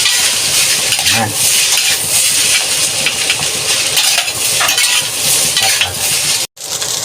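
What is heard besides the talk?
stirring and frying chaotay silog ingredients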